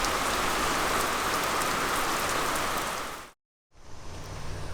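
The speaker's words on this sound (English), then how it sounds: "this is the first bit of the rain that we've gotten and not much wind" Light rain falls at a boatyard in Green Cove Springs after Hurricane Isaias, a steady, fairly loud hiss that breaks off briefly, then returns softer with calm air.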